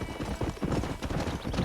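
Rapid clip-clop of horse hooves at a gallop in the video game Red Dead Redemption, close and steady, with a brief whinny mixed in.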